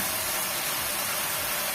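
Onions with seasoned filling frying in a pan on the stove for lazy manti, giving a steady, even sizzling hiss close by with no talk.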